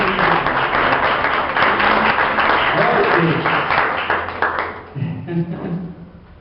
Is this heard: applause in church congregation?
yes